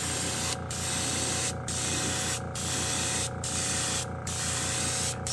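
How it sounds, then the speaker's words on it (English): An airbrush at about 25 pounds of pressure sprays pearl paint over a square-bill shad fishing lure, a continuous loud hiss broken by five brief pauses. "I'm going to shoot this one with about 25 pounds of pressure because I'm going to coat the whole thing."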